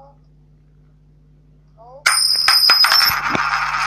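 A mobile phone notification sounds partway through, a bright ringing chime that comes in suddenly and is followed by sharp, clattery tones over a steady low hum, with a brief spoken word before it.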